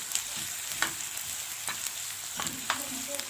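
Onion and garlic fry in a pan for Egyptian eggah as tomatoes are added, giving a soft steady sizzle with several spoon scrapes and stirs, close and without talk.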